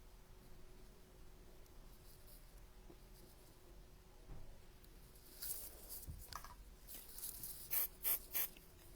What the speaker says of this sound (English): I'm going to spray with powder again a little bit.